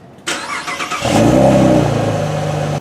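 A 2014 Chevrolet Camaro with the 3.6-liter V6 starts up, then settles into a loud, steady engine rumble close by after a brief burst of sound.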